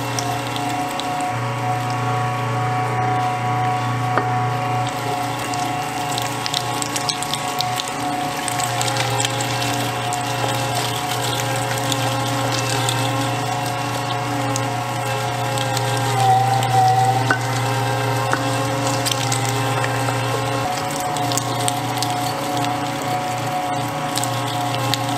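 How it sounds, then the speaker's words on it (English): Steady mechanical hum and grinding churn of a meat grinder processing venison, running continuously and fairly loud the whole time with a constant low drone and faint clicking, no voices. "It took us all day to grind venison."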